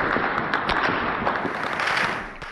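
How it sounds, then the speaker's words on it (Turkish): Rapid crackling bursts of gunfire at a distance in Homs, Syria, irregular sharp pops over a dense, noisy background that fades at the end. "Humus'ta silah sesleri dinmiyor"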